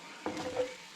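Hot oil starting to sizzle in a pan over low heat while a BIR-style chicken rogan josh curry is cooked, a soft hiss rising suddenly and holding steady through a brief moment.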